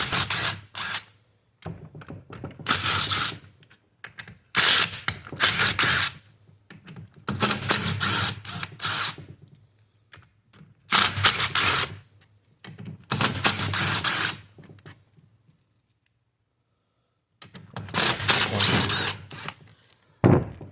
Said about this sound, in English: I'm going to take the bigger bolts off.